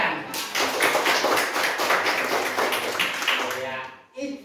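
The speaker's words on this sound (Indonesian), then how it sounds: "Ya, tepuk tangan." A primary school class claps hands together in a rapid, rhythmic burst lasting several seconds, fairly close and loud, then breaks off into brief voices.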